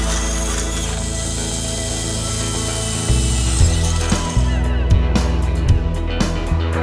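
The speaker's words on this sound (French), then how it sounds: "Percez les trous à distance égale dans le profilé de montage en U." A power drill bores holes at even spacing through a U-shaped mounting profile for a composite wood and glass privacy screen, a steady whir giving way to louder bursts of drilling and clatter from about three seconds in.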